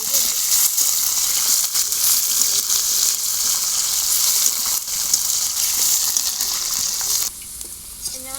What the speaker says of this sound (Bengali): বন্ধুরা এবারে আমি আলুগুলো ভেজে নেবো।